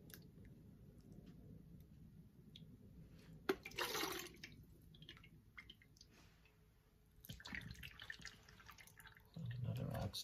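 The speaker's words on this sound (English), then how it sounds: "I'm going to take my sieve and just ladle my broth into it" Faint splashes and drips as oxtail broth is ladled into a sieve, quiet and close, with a few soft clinks and a louder pour near the end.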